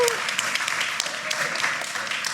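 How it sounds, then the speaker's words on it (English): Audience applause at a talk on the food business in Detroit, dense clapping throughout with some voices mixed in underneath. "Give Marcus and WE a big round of applause."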